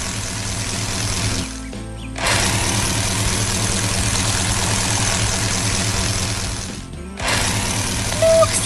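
A magenta planting machine engine in a farm animation running loud and steady, a rough low idle that cuts out briefly twice before resuming.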